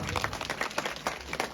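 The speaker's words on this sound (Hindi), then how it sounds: "प्रदेश मीडिया प्रभारी भारतीय जनता पार्टी पर जोरदार तालियां बजा दो।" Crowd applause for the chief guest at a village gathering on a Ramlila ground, quick overlapping claps in a short, fairly quiet burst.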